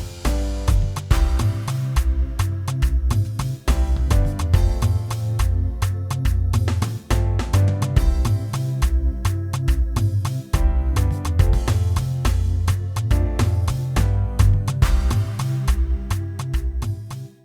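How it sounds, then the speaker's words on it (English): A studio-produced beat with a steady bass line, drums, claps and keyboard plays loud and continuous, the rhythmic pattern repeating throughout with no voice over it. "the bass, the rhythm, the drums, keyboard and everything, so it sounds like this."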